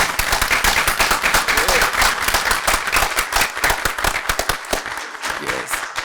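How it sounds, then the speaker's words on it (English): Applause at a school board meeting honors the school soccer players, with loud, close, sharp individual claps mixed into a crowd's ovation that thins out and quiets toward the end. "So let's give them a huge round of applause."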